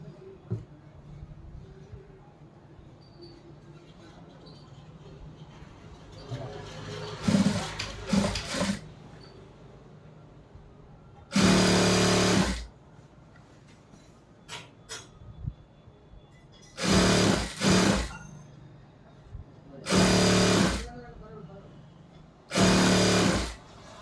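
Sewing machine stitching a folded churidar top, short loud motor bursts of one to two seconds separated by pauses, with quieter handling noises between runs.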